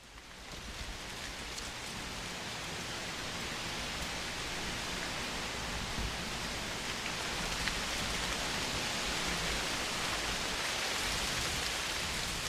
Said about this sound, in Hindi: इसके साथ ही बारिश स्टार्ट हो गई